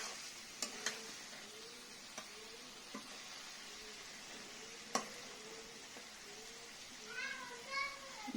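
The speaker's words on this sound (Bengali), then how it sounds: "এভাবে নেড়ে চেড়ে কষিয়ে যখন দেখা যাবে যে মাংস থেকে তেল বের হচ্ছে" Pigeon meat is stirred and fried in a pan with a faint, steady sizzle and occasional sharp clinks of the spoon, while voices chatter softly in the background.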